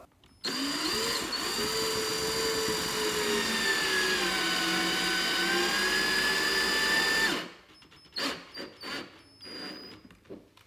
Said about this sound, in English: So now I can take my self-tapping screws and I can screw them through the remaining holes in the mud flap.